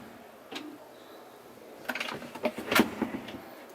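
A deep drawer in a Benimar Perseo 596 motorhome is pulled open, giving a few soft clicks and a short rattling slide at close range in a quiet interior.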